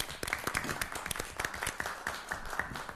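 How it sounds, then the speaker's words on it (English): Small crowd at a city council meeting giving a short round of applause, a scattered patter of individual claps with a few sharper hits, fairly quiet and uneven throughout. "Can you give a round of applause"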